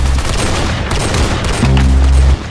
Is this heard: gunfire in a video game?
yes